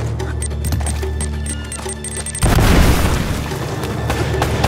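A grenade detonates in the video game Uncharted: Drake's Fortune, a sudden loud boom that swells into a sustained rumbling roar after a stretch of clicky in-game noises and faint action sounds.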